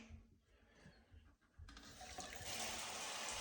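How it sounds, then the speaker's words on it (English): Water spraying from a bidet's pop-out sprayer on its normal wash setting, a soft hiss that starts low and then swells into a steady, louder rushing spray that lasts to the end. "when you put it on wash, there's two sprayers that pop out"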